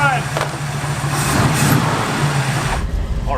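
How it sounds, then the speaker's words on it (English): Engine of an old sleeper wagon car pulling out of a garage, a steady loud rumble with a continuous low drone close by, with a slight swell midway. "Already pulling out of the garage"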